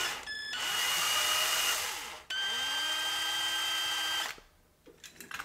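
A power drill whines loudly in two long bursts with a brief pause between, its motor pitch sliding as it spins up and winds down.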